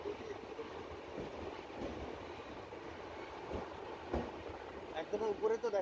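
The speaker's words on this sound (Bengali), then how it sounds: "এখন খড়গপুর স্টেশন ক্রস করছে আমাদের ট্রেন।" Heard from on board, the 12245 SMVT Duronto Express from Howrah rolls through Kharagpur station with a low, quiet rumble, scattered clacks of the wheels and a rising clatter near the end.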